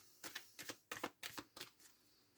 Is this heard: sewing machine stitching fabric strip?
no